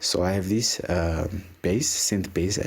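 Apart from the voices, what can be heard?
No everyday noises stand out.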